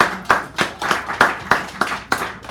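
At a poetry hour in a San Francisco cafe, a handful of people clap in slow, even unison, about eight distinct crisp claps spaced evenly and heard close by with quiet gaps between.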